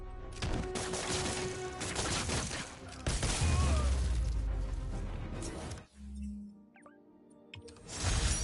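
Enemy gunfire bursts out in Spider-Man on PS5, dense crackling volleys of shots mixed with impacts and crashes, loud and busy for several seconds before a brief drop and a final burst.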